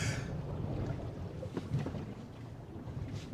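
A new 2025 electric Mercedes G580 G-Class wades through deep water during extreme off-roading, pushing a wave ahead. Steady rushing and sloshing of water runs throughout, with wind buffeting the microphone and no speech.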